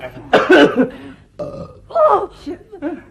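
A few throaty bursts of coughing in quick succession, close and loud, mixed with some vocal sounds.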